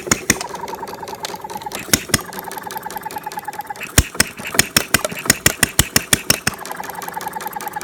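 A half-scale Debolt machine engine catches and runs with irregular sharp firing pops and knocks over a mechanical hum, the beats speeding up and bunching toward the end.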